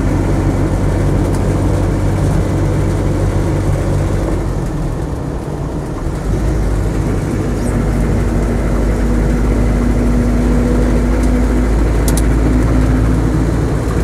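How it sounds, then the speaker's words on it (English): Steady road and tyre drone inside a Land Rover Defender 90 2.5 diesel soft top running on military pattern tyres, a continuous low rumble with engine hum that stays loud and even throughout, with no talking. "A little bit of tyre noise, but you expect it from these military pattern tyres."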